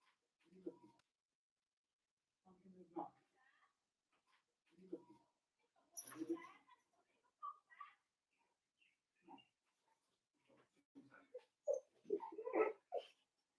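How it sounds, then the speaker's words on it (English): A dog barks in short scattered bursts at a moderate distance, mixed with a person talking nearby. "Either barking at another dog,"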